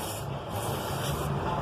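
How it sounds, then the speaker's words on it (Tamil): Rust spray hisses in a short continuous burst onto a Honda Unicorn 150 motorcycle's air filter box, close and fairly quiet. "அதுக்கு மேலே இந்த ரெஸ்ட் ஸ்ப்ரே"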